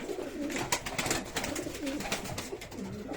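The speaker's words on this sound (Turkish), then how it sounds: "Bu kuşlar gerçekten güzel kuşlar yani." Tumbler pigeons kept as play birds cooing softly in a loft, several overlapping low burbling coos repeating throughout, faint and close with no talk.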